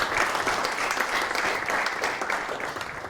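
Audience applause at the close of a corporate talk about Schneider Electric factories, dense and steady throughout, close and loud with no voices over it.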